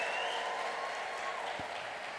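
A church congregation in Addis Ababa applauds together, a soft, even wash of many hands clapping that holds steady and distant-sounding for the whole stretch.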